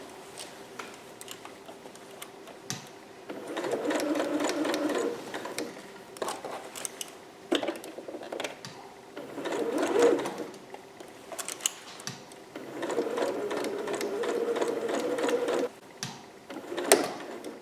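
A sewing machine stitches a garment seam right over the pins, running in steady whirring bursts of a couple of seconds each, separated by quieter pauses and small clicks.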